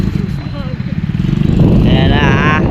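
A motorcycle engine sputtering and coughing in a rapid, uneven putter that grows louder toward the end, heard beneath a person talking nearby.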